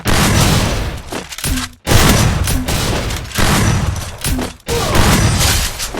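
Repeated bursts of gunfire from the Free Fire mobile shooter game, loud and close, firing in rapid volleys separated by brief pauses, with no talking over them.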